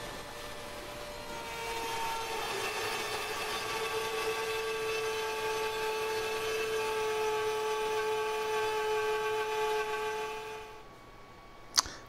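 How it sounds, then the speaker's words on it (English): A router cuts forms from 3/4 inch MDF for nose rib forms on a Bearhawk experimental airplane build, giving a steady, close, loud high whine with layered tones that holds for about eleven seconds before cutting off. "I'm cutting forms on the router out of 3/4 inch MDF"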